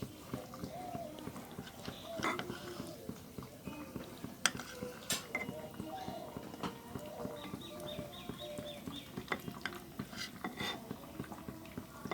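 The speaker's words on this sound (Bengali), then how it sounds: "পনিরটা কেটে নিচ্ছি।" A knife cutting paneer in a home kitchen, heard as faint irregular taps and knocks on a board that repeat through the stretch, with a person speaking over them.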